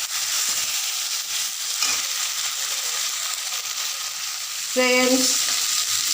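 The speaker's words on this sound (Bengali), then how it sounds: "এবারে এই মশলাটা দিয়ে কষিয়ে নেব সবজিটা" Vegetables are stir-fried with spice paste in a hot pan, oil sizzling with a loud, continuous hiss. A spatula scrapes now and then, and a short whistling clatter cuts in near the end under one brief spoken word.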